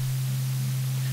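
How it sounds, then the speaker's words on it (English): A steady sine wave synth tone from Arturia Pigments, distorted by random-noise modulation, hums continuously with a gritty hiss layered over the pure pitch, loud and unbroken throughout. "you can still hear the original sine wave underneath, but it's been distorted"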